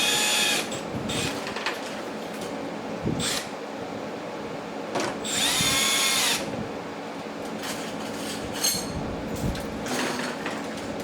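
A cordless power drill drives screws into a carbon fiber front splitter on a C8 Corvette Z06 or E-Ray, with several short whirring bursts separated by pauses and handling clatter, fairly close.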